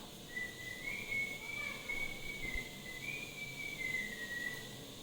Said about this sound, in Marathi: कुठून शिट्टी वाजायली